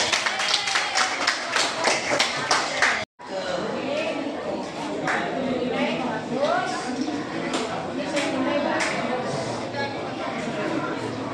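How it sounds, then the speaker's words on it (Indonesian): Students in a school classroom clap hands in a quick rhythmic burst, then scattered clapping and taps continue amid lively chatter and voices around the room. "Tepuk tangan,"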